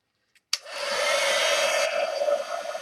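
Hair dryer drying paint on a journal page switches on after a small click, its whooshing blower rising at once into a steady, fairly loud airy roar with a whining hum that keeps running alone.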